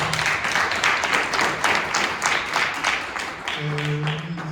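A summit audience applauds its platinum sponsor at the closing of the Fetsi digital future summit, with broad, sustained clapping from a full room that continues evenly before a brief tonal sound near the end.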